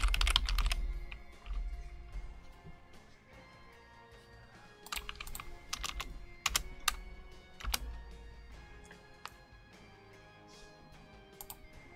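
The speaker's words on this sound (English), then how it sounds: "enjoy the sounds of mouse clicks for just a moment" Mouse and keyboard clicking at a home computer, sharp close clicks coming in scattered clusters and single taps over a quiet background, with no talking.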